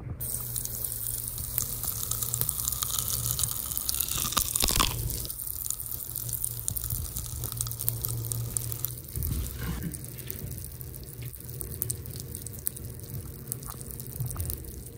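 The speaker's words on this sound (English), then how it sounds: "as soon as the water hits the Pop Rocks, they start popping and making that sound that everybody loves" Dense crackling and fizzing as Pop Rocks candy pops in water, a steady stream of tiny pops and snaps close by, with a brief splash of pouring water early on.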